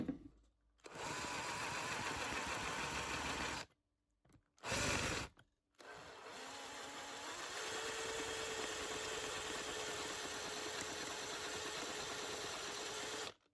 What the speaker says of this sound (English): I could repair it by drilling out the rivets and re-riveting it.